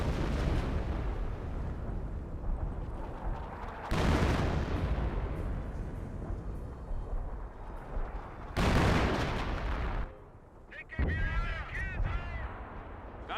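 Artillery fire from a 25-pounder gun in the World War II strategy game Company of Heroes: two loud, booming blasts that each roll into a long rumbling tail, over a busy battlefield din, with a brief lull near the end.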